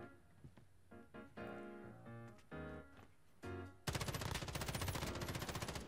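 Paper AR rifle fire in Modern Warfare: after a few seconds of other game sounds, a loud, rapid burst of automatic shots runs continuously to the end of the clip.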